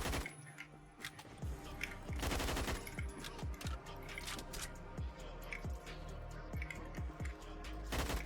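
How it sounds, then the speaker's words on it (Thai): Rapid automatic gunfire bursts from the online shooter Phantom Forces, including an AUG A1 rifle, crackle repeatedly across the scene, with distant and near shots overlapping in a dense, continuous firefight. "มันถูกโดนยิงแล้วจากหลายทางนะ"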